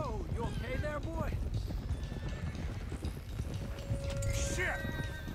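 Horses gallop with steady, dense hoofbeats in Red Dead Redemption 2, with neighs and whinnies rising above the running, while voices talk over the action.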